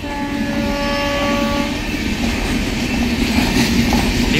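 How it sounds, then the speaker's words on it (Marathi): The Trivandrum Rajdhani Express, a long-distance all-AC train, passes close by with a loud, sustained horn blast that cuts off partway. A continuous rumble and clatter of wheels on rails follows. "TVC राजधानी ही खूप मोठ्या पल्ल्याची गाडी आहे."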